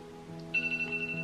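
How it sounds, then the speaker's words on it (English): A phone alarm set for 7 o'clock goes off briefly in a quiet room, a short electronic ringtone of thin high beeps starting abruptly and repeating for about a second. "that is my alarm to say that it is 7 o'clock and I should be out the door"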